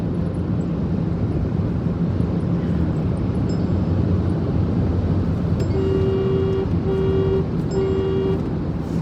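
Steady broadband road and tyre roar inside the cabin of a moving Mahindra XUV 3XO AX5 diesel with a manual clutch, continuous and moderately loud, with a short tonal horn-like toot sounding three times near the end.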